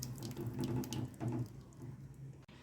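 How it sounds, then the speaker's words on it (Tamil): A steady stream of water pours and splashes into a cooking pot of sambar with mashed dal for a couple of seconds, close by and moderately quiet, then cuts off. "எந்த அளவுக்கு தண்ணி வேணுமோ அந்த அளவுக்கு தண்ணி ஊற்றிக்கோங்க"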